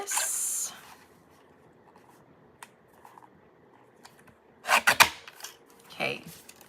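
Cardstock paper being trimmed at a crafting table, with a brief rustle at the start and a cluster of sharp cutting strokes later, fairly close and moderately loud between quiet gaps.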